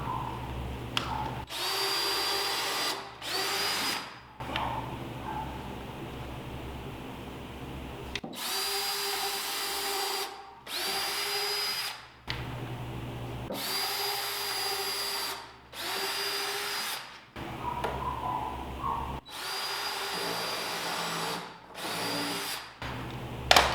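Power drill pre-drilling and driving 1.5 inch screws through plywood into a rolling workbench base, whirring in repeated bursts of a few seconds each, close and loud, separated by brief pauses.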